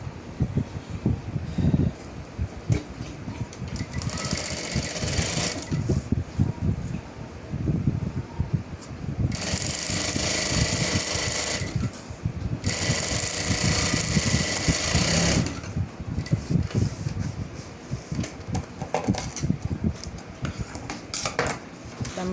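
A sewing machine stitches a seam on the lining of a makeup bag, long runs of fast steady motor whir broken by short pauses and small handling clatter, close and clear with no talk.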